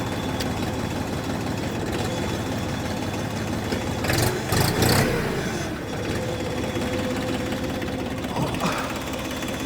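A XINGTAI 244 THL mini tractor's diesel engine runs loud and close with a steady knocking idle, briefly surging and rattling harder partway through before settling back.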